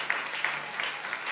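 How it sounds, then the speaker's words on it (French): A church congregation applauds together, a dense continuous wash of clapping with slight rhythmic swells, heard from within the room at moderate level. "Et on acclame les Seigneurs."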